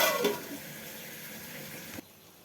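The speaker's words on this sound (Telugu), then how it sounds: "కొద్దిగానే వాటర్ యాడ్ చేస్తున్నాం." Water pours into a Telangana-style potato egg curry as it boils, a close splashing that fades to a softer trickle and then stops sharply.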